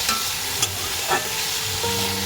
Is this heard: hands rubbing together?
no